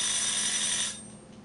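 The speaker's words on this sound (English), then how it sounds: "Looks like our timer's about to go off." A kitchen timer rings while cookies made from cake mix bake, a loud continuous metallic ringing that cuts off after about a second, leaving quiet room tone.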